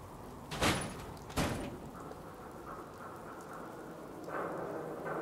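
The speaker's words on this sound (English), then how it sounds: "We're hidden with the rain." Soft, steady rain in the video game Fallout 4 hisses at low volume, broken early by two sharp thuds in quick succession.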